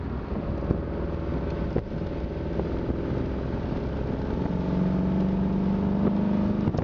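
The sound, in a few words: Porsche 914 (1975) engine while driving, shifting gears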